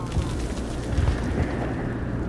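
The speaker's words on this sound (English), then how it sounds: "How is a woman supposed to think with guns going on all" Battle sounds from the video game Mass Effect, with rumbling gunfire and booms churning continuously under the mix, dense and mid-distance rather than sharp individual shots.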